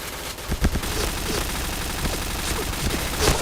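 Rapid bursts of MP7 submachine gun fire from the Point Blank shooter game, several short volleys with sharp transients spread across the stretch, steady game ambience underneath and no talking.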